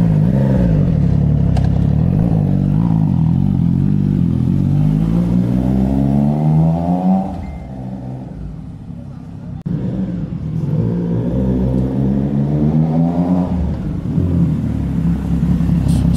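A new 2025 Triumph Trident 660 triple fitted with an IXIL full exhaust, still in its break-in period, revs up and down repeatedly at close range. Its throaty rumble rises in pitch, dips, then climbs again with a steady, loud drone.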